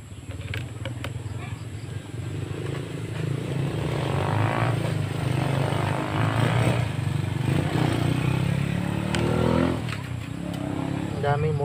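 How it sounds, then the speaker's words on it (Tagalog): Steady engine rumble of passing motorcycles fills the clip, a continuous roar with traffic clatter and a voice faintly underneath. "Ang daming motor."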